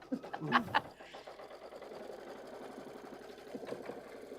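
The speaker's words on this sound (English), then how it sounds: "Now it's sewing it." An embroidery machine stitches at a quilting and embroidery spa event, a rapid, regular mechanical pulsing that runs evenly after a short burst of louder sound at the start, moderately loud and nearby.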